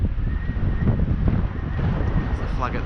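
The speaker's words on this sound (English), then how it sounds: "It's quite windy today." Wind gusting along the Blackpool promenade in November, a low rumbling buffet on the microphone that swells and eases throughout, close and fairly loud, with a faint voice in the background.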